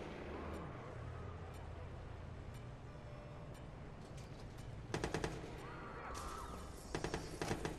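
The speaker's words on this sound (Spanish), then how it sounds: "Se está dando balazos." Machine gun fire in the Watch Dogs video game crackles in rapid bursts over a noisy game backdrop, with sharper volleys toward the end, fairly faint overall.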